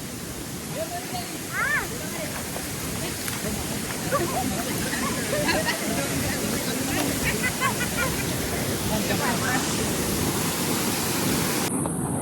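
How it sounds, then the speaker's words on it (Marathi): A waterfall near a village roars steadily as a broad, constant rush of water, while voices talk and call over it throughout. "हा धबधबा फक्त आमच्या गावाकडे फक्त 2 या 3 मिनिटावरच आहे."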